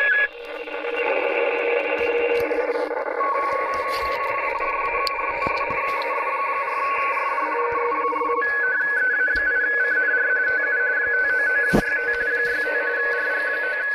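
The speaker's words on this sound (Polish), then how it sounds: "Na początku jest tutaj telegrafia. czyli są to tak transmisje telegraficzne." Radio telegraphy transmission heard through a receiver: steady keyed tones sit over a constant band of hissing static for the whole stretch, with a brief click near the end and no voices.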